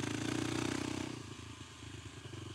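Kawasaki KLX300 dirt bike with its secondary throttle plate removed, accelerating and shifting up through the gears; a loud, near engine roar that dips briefly as it changes gear, then keeps pulling steadily.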